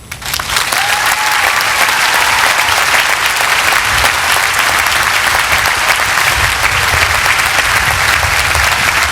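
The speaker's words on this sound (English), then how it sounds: "I ask all of us here to applaud your strength" A large audience at a college commencement ceremony breaks into sustained, even applause, loud and continuous across the whole stretch with a roomy crowd texture.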